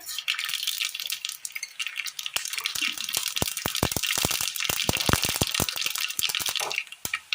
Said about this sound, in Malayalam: ഇതിലേക്ക് കടുക്